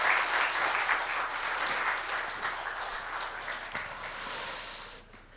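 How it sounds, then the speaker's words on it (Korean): A church congregation breaks into applause after a prayer, loud at first, then thinning gradually and stopping abruptly near the end. "박수해 주세요"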